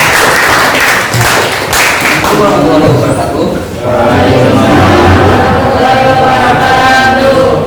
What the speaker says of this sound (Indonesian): tepuk tangan untuk kelompok besar